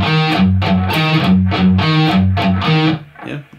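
An electric guitar with heavy distortion plays a riff slowly: a loud, close series of about seven chugging notes in an even rhythm, then a quieter tail at the end.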